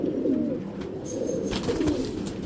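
Racing pigeons coo nearby, soft throaty rolling calls repeating in a low warbling rhythm, with faint background rustle and no talking.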